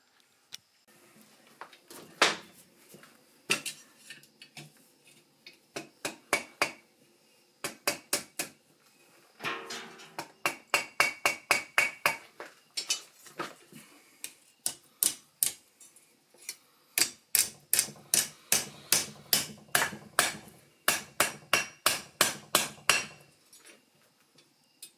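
A hammer strikes hot steel while the hook of a lion's claw steak flipper is forged and bent, giving sharp, ringing metallic blows, close and loud, in uneven bursts and fast rhythmic runs with short pauses between.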